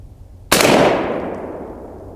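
A shotgun fires a single turkey-load shot: one sudden loud blast followed by a long, fading outdoor echo and no talking.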